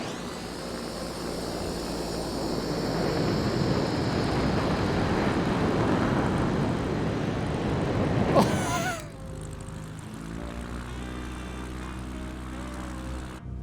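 A Cub Crafters NX Cub aircraft engine in Microsoft Flight Simulator rises to a steady propeller roar, then suddenly cuts to a much quieter low hum after a sharp transient. No voices are heard.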